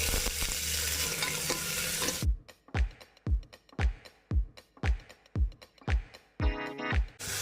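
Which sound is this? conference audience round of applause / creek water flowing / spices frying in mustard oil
spices frying in mustard oil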